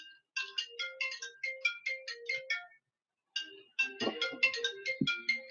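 A phone ringtone plays a quick, bright melodic chime pattern in repeated bursts, pausing briefly before starting again, with a short low thump near the end.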